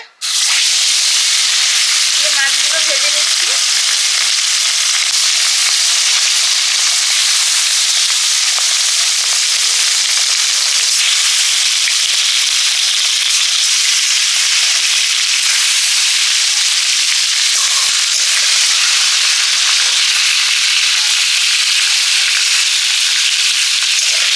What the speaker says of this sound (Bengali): সরষের তেল দিয়ে দিলাম কড়াইতে